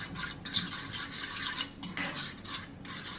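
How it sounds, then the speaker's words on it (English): Omelette egg mixture stirred in a pan, a close scraping and swishing in repeated strokes over a soft background sizzle, no talking. "And then you put your mixture in. And then you give it a little stir"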